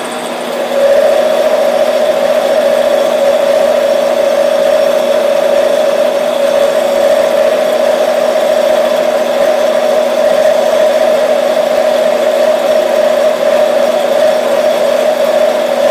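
A milling cutter makes a continuous pass on a metal holder prototype, giving a steady, loud whine with an even tone and no pauses, with no talking over it.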